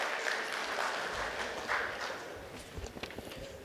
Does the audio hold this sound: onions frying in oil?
no